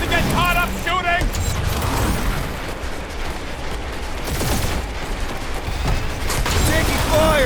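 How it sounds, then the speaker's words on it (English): Gunfire in Marvel's Guardians of the Galaxy rattles in scattered bursts under a dense game mix of voices, music and effects, never standing alone. "Taking fire! Try not to get shot, Quill."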